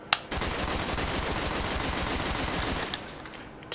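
Rapid-fire gunshots from a PlayStation 3 video game crackle in a fast, continuous automatic burst for nearly three seconds, loud and steady, then trail off into quieter game sounds.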